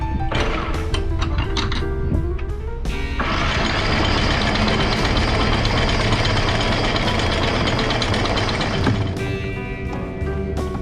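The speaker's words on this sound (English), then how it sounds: "Our engine keeps dying." A failing boat engine rattles and sputters, then runs rough and loud for several seconds before abruptly dying, followed by mechanical clatter.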